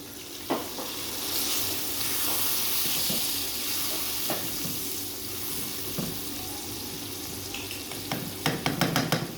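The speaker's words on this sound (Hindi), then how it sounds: "अब हम इसके अंदर डालेंगे पानी, कीमा हमारा गल जाए।" Water added to minced meat frying in a pan for a dhaba-style bhindi keema, with a steady sizzle, scattered clinks of stirring, and a rattle of utensil taps toward the end.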